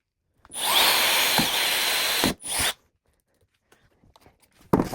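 A power drill with a 5/32-inch pilot bit boring into PVC pipe: a loud, steady whine lasting about two seconds, a brief pause, then a second short burst, followed by faint handling clicks.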